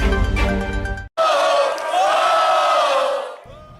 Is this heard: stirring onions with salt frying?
no